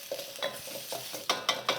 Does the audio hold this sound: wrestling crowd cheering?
no